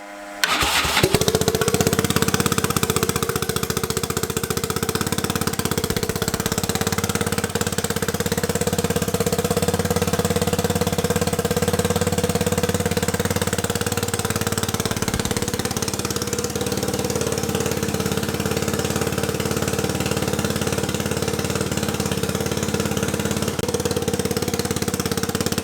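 A turbocharged EFI 660 lawnmower engine is started with a key, catches at once and settles into a loud, steady idle that runs on for about twenty-five seconds without talking.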